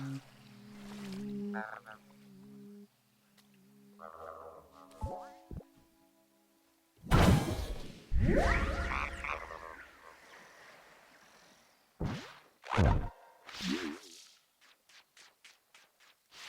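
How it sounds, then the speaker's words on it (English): A frog in the Paradise Marsh game croaks among other swamp effects, with rhythmic warbling calls, splashy bursts, and several sharp hops, moderately near against a quiet background. "Oh, there's a frog."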